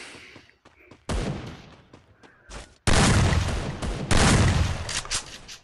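Shotgun blasts in the game Free Fire, a few quiet pops first, then two loud, sustained bursts of gunfire that crash in abruptly and stay heavy to the end.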